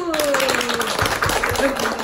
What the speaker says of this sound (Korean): 박수 치며 또 끝내보도록 하겠습니다